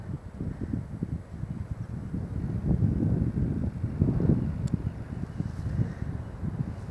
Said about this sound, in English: Oh, that's a windy day.